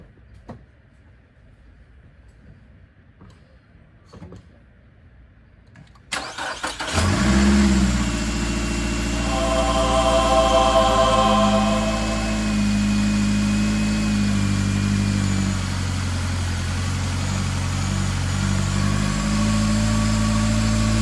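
After a coil pack repair, a Nissan Altima sits in near silence, then cranks and catches with a sudden burst. It settles into a steady, even idle that continues close and loud to the end.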